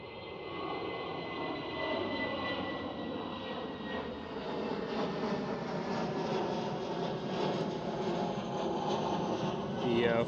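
An SAS Airbus A319 in former Star Alliance livery departs Schiphol with a loud, sustained jet engine roar that holds steady and swells slightly near the end, heard from a spotting spot outdoors.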